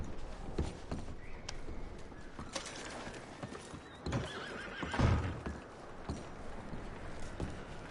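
Horses in the video game Red Dead Redemption whinny and hooves clip-clop at an unsteady pace, with scattered thumps and rustling around them, moderately close.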